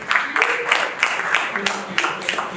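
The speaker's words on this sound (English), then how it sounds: "Ladies and gentlemen, please join me with a wonderful applause, Dr. Mrs. Dideolu." An audience applauds to welcome a speaker at a formal talk, a steady wash of clapping at moderate level filling the room, with faint voices mixed underneath.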